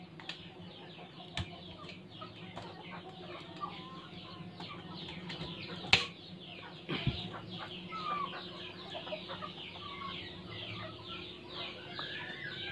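Chicks chirp in a group at a poultry feed and supply place, a faint, busy scatter of high peeps and soft clucks over a low background hum, with a couple of sharper knocks.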